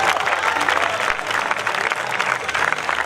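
Lively applause from a gathered crowd at the Villacidro Skyrace 2018 award ceremony, continuous and fairly loud, with a few scattered voices mixed in.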